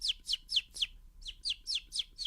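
A beatboxer vocally imitates a bird with a quick series of about nine sharp, descending chirps in a steady rhythm, close and clear with no other sound.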